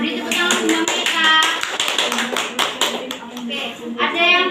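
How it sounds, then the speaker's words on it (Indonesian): A classroom of pupils gives a student a round of rhythmic hand clapping, fairly close and lively, with children's voices talking and calling out over the claps. "Beri tepuk tangan Mbak Meita."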